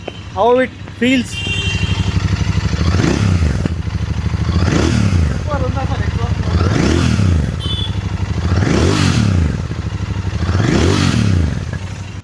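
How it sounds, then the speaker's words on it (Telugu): A 2026 Royal Enfield Continental GT 650, heard close at the exhaust, idles with a deep throb and is blipped about five times in a regular rhythm, each rev swelling and falling back; someone speaks briefly at the start. "కాంటినెంటల్ GT650 ఒక ఎగ్జాస్ట్ సౌండ్ అనేది విందాం ఎలా సౌండ్ చేస్తుందో"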